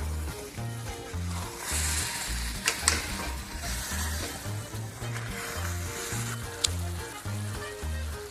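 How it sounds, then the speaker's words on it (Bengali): Chicken fries in a pan with a loud, steady sizzle while a utensil stirs it repeatedly, scraping and clattering in an uneven rhythm, close and without talk. "বারবার নেড়ে নেড়ে ভালো করে কষাবো"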